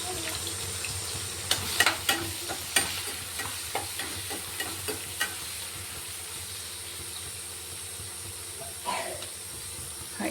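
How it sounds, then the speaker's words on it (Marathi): Tomatoes fry in a pan for upma, a soft continuous sizzle with occasional clinks and scrapes of a spoon stirring, fairly quiet throughout. "टोमॅटो पण फ्राय करायचे त्यातच। चवीपुरतं मीठ टाकायचं, अर्धा चम्मच हळद टाकायची।"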